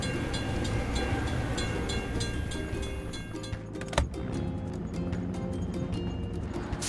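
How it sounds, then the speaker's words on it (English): A train rolls through a level crossing in a children's construction-vehicle video game, a steady rhythmic clatter of wagons running the whole time with a brief sharp knock near the middle. "We have to wait for the train to pass."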